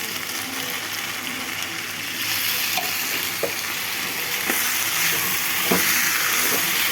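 Potatoes frying in a pan as chopped tomatoes are added, with a steady loud sizzle and hiss and a few soft clacks of stirring, and no voices.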